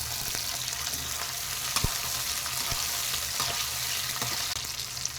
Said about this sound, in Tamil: இப்போ நல்லா வதக்கி விடணுங்க.